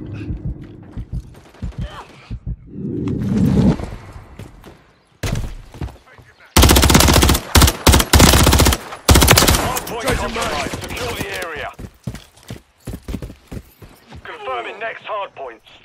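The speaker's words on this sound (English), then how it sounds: "I'm taking fire." Automatic and single gunfire from a Modern Warfare 3 multiplayer Hardpoint match on the Estate map, with loud sustained bursts in the middle and scattered shots elsewhere, under game radio chatter and voices.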